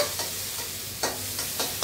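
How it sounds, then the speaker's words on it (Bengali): Curry leaves and other ingredients fry in a pan with a low steady sizzle, broken by several soft scraping stirs spaced roughly a third of a second apart. "এটাকে এবার সবগুলো মিলিয়ে ভাজা করব"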